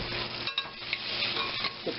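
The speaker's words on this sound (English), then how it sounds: "now we put our onion in the butter. And we toss that." Chopped onion sizzling and being tossed in melted butter in a pan for a slow-cooker cheese soufflé with soubise sauce, a steady close sizzle with brief stirring scrapes and clicks throughout, no voices.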